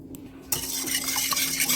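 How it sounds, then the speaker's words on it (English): A spoon stirring fruit cake batter made with maple syrup and applesauce: a quiet start, then steady close scraping and soft wet swishing against the bowl, with no talk. "I'm just going to stir this up a little bit."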